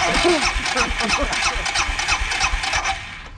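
A superbike engine cranks and turns over repeatedly with a rough, pulsing rhythm, sputtering close by as it tries to catch.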